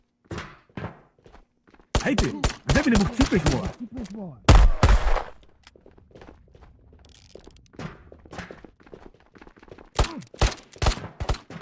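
Gunfire in the VR shooter Ghosts of Tabor during a solo PvE raid, with bursts of sharp shots and heavy impacts clustered mid-clip, mixed with footsteps and clatter, while someone talks between them.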